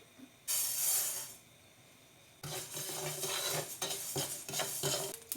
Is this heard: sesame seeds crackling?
yes